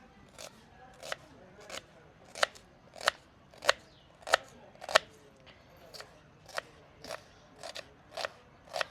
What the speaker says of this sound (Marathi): आपण मस्त बारीक लांब लांब कांदे कापून घेऊया